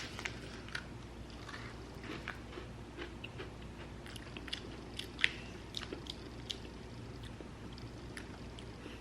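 Someone bites into and chews a cinnamon biscuit from Kenya, faint scattered crunches and crisp clicks heard close to the mouth over a low, steady background hum, with no talking.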